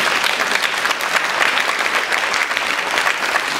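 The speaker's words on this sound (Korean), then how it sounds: "다시 한번 박수 한번 보내주세요" A church revival gathering breaks into loud, dense applause, with many hands clapping together in a sustained, even roar that fills the whole stretch without any talk over it.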